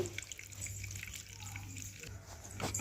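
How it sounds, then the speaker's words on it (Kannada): Milk poured into a bowl for French toast, a faint soft trickle and splash close by over a low steady hum. "ಸ್ವಲ್ಪ ಹಾಲು ಹಾಕೋತೀನಿ"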